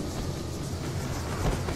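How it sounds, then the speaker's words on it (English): A tram running on rails in Max Payne 3, a continuous heavy rolling rumble with a faint metallic rattle that stays steady and close, with no talking. "The trams were running again"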